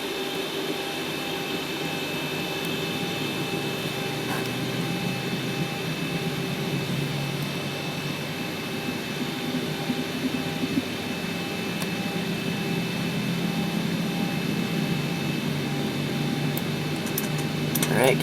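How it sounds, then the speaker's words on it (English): A Boeing 737-700's number 2 jet engine spools up during start in the X-Plane 11 flight simulator: a steady whining, humming drone with faint tones that builds slightly over time, with no voices. "Alright, start engine 2."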